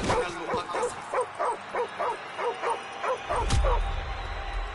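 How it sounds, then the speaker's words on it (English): A dog in Call of Duty Modern Warfare Remastered barks in a rapid run of about a dozen evenly spaced yaps, close and loud, ending as a heavy rumble comes in. "Dirty-ass dog, you saw me?"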